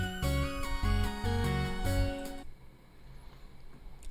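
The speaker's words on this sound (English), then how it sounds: "One of them is level music, sounds like this." Level music from the video game Project Butterfly: a steady melodic loop with pulsing bass notes and bright synth tones, playing clearly for about two and a half seconds before cutting to a quieter, sparse texture.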